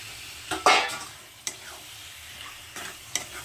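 Chicken marinated in lemon and salt drops into hot oil for South Indian chatina chicken, giving a loud sizzle burst and scraping stirs, then softer frying crackle with a few sharp spoon clicks near the pan.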